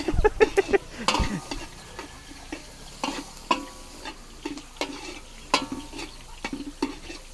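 Onions sautéing in a pan, with a soft sizzle and a series of close, irregular stirring scrapes and clicks of a utensil against the pan.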